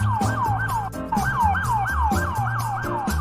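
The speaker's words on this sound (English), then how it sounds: "Ambulance." An ambulance siren wails close and loud in rapid repeating yelp cycles, several sweeps rising and falling over a rumbling engine-like low tone, with no voices.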